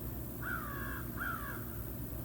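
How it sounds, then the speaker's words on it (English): A crow caws twice outdoors, two clear harsh calls in quick succession at moderate distance over a steady background hum. "that's a bird in the background there."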